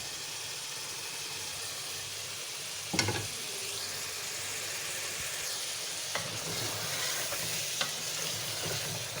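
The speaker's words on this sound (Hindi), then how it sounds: "असां हिनखे 2-3 मिनट भुञंदासीं" Liver cooking with spices, ginger and garlic for a Sindhi curry gives a faint, continuous frying sizzle, with a few sharp clinks of stirring cutting in now and then.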